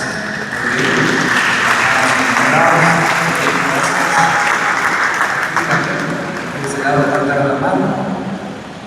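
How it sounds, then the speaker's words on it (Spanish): Sustained applause from a church congregation, steady clapping for several seconds with a few voices mixed in, then tapering slightly toward the end. "Vamos con el aplauso."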